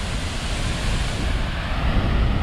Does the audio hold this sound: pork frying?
no